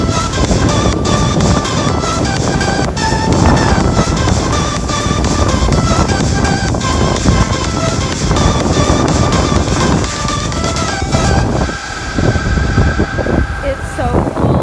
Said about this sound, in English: We're at the beach. It's a little windy